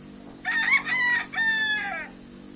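A rooster crows nearby in a single full cock-a-doodle-doo, loud and clear over a low background hum.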